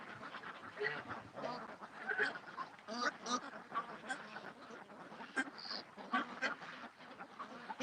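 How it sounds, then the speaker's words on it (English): A goose calls repeatedly in a busy flock of ducks and geese, with overlapping honks and quacks continuing steadily and loudly at close range throughout. "That's a freakish old duck because that's a goose."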